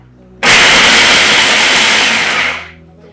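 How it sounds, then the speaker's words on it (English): A blender whirs loudly as it purees a filling mixture for collard green wraps. It starts abruptly, runs steadily close up for about two seconds, then cuts off. "So I'm going to blend this"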